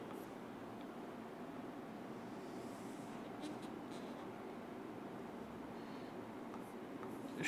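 Pen writing on paper while working a math solution, a soft continuous scratching, faint and close over a low room hum with no talking.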